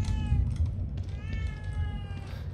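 A kitten in the video game The Evil Within 2 gives several clear, high, drawn-out meows, one after another, over a low rumbling game ambience.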